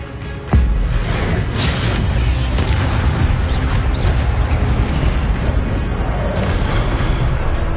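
Spell-casting blasts in Hogwarts Legacy, a sharp booming impact followed by continuous layered whooshes, crackles and rumbling bursts, loud and dense throughout with no clear gaps.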